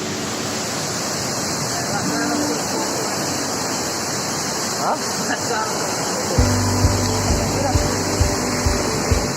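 Langkuit Tinggi waterfall at Malalak, a tall cascade up to about 100 meters, roars as a steady broad rush of falling water, with a voice talking over it in the later part.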